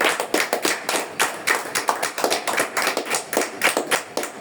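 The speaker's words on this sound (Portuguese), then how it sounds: "Só quem acredita nisso, dê uma linda salva de palmas ao Senhor." Church congregation clapping at a Friday worship service, a dense patter of many hands at close range, steady and lively with slight rhythmic swells, no talk over it.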